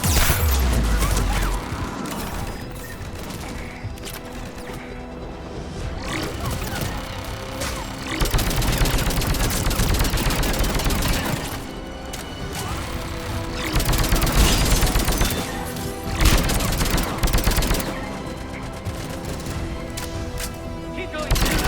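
Mass Effect 3 firefight against turrets: dense, continuous automatic gunfire, crashes and impacts fill the whole stretch, loud and close, with combat voices speaking over the battle.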